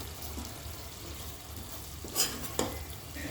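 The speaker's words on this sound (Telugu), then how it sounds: "ఇట్లా మంచిగా ఫ్రై చేసుకోవాలి" Chicken pieces frying in a pan for chicken pulao, a low continuous sizzle broken by a couple of brief stirring scrapes, close and moderately quiet, no one speaking.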